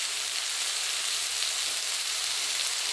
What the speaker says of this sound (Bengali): সব কিছু মশলাটা বেশ ভালো করে শাপলার সঙ্গে ভেজে দেব।